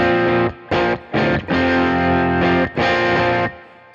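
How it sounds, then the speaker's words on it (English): An electric guitar on the bridge pickup runs through a Klon overdrive in an Ableton and TONEX rig, giving loud, driven chord stabs: a few short choppy hits, then longer sustained ringing chords that fade out, with no voices. "The first one I've got my Klon right there. This is my drive section."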